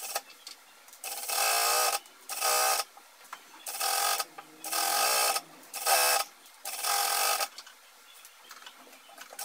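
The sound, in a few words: sewing machine stitching back crotch seams of pyjama pants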